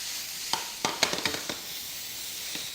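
Garlic hitting a hot pan crackles in a steady sizzle, with several sharp pops and spits scattered through it, close and moderately loud with no talking.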